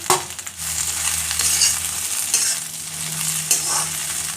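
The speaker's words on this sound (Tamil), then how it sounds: "இந்த பீண்டி ஃப்ரை ஆயிட்டிருக்கிறது" Okra pieces, cut lengthwise, frying in hot oil for an Indian bhindi masala: a steady, close, hissing sizzle with faint stirring scrapes, no voices.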